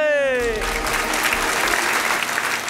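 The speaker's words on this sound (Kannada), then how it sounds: "ಬರ್ಲಿ ಜೋರ ಚಪ್ಪಾಳೆ" Loud, sustained applause from a studio audience on a television show set, welcoming a couple onto stage, starting right after a host's voice and continuing steadily to the end.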